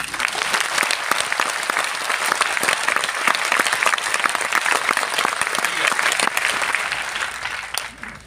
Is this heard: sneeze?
no